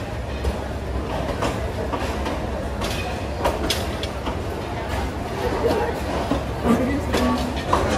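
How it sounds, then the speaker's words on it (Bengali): The Korotoa Express pulls out of Gaibandha railway station in Bangladesh, heard from on board: a steady rumbling roll with rhythmic clacks and occasional squeals, and voices murmuring under the train noise. "আমাদের ট্রেন ছেড়ে যাচ্ছে গাইবান্ধা স্টেশন।"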